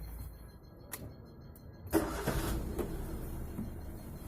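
An Alto K10 car's engine is started: a brief starter crank, then the engine catches into a steady, fairly quiet idle, heard close with no talking.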